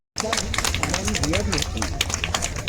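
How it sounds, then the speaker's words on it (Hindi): Audience applause at an award ceremony honouring community talent, a dense, continuous patter of many hands clapping close and loud for the whole stretch, with faint crowd murmur mixed in. "वे जोरदार तालियां बजाते।"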